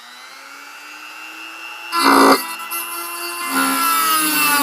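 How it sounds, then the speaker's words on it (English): Dremel rotary tool cutting out a side lock: a steady high motor whine broken by a short loud grinding burst as the bit bites, then a second longer stretch of cutting. "got the Dremel. I'm going to Dremel out the rest of this."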